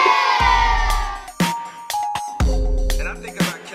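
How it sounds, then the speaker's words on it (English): An inserted crowd sound effect dropped into a makeup tutorial: loud, brief bursts of cheering, whoops and shouting voices that cut in and out abruptly, several separate blasts over a few seconds. "Insert applause."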